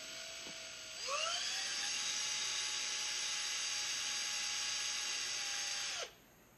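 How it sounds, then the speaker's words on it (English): A drill bit grinds against a Razer mouse scroll-wheel part, a steady high-pitched whine spinning up after a second and holding loud and even for about five seconds before cutting off. "ultimately we're going to go forward with the drill"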